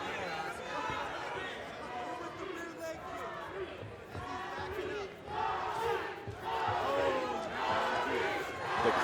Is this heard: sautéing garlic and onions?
no